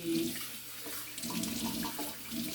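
A kitchen tap runs steadily as dishes are rinsed under it, a close, even splashing rush of water that lasts the whole moment without any talking.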